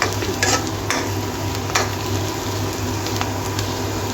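Onion frying in a pan, a close, continuous sizzle with a few brief scraping stirs, steady and fairly loud, with no talking over it.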